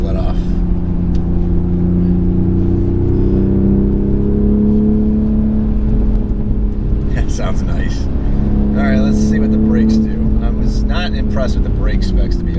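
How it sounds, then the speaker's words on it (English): A 2020 Toyota Supra with automatic transmission pulls hard in third gear on a track, its engine a steady close drone that rises, then crackles and burbles on lift-off, with a person talking over it. "Oh, I love the burbles when you let off."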